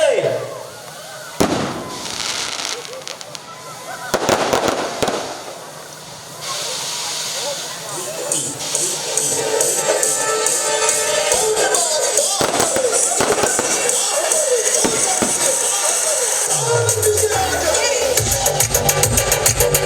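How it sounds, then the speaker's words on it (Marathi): Loud, dense crackling and booming bursts from a grand fireworks display at a Shiv Jayanti celebration, with repeated sharp pops, hissing trails and a continuous roar, while a voice talks over the noise. "फटाक्याची भव्य आतषबाजी"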